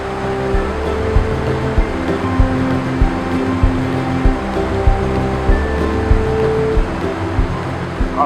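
Rushing river water with a steady, dense broadband roar and low rumbling surges, continuous and close throughout, with no voices.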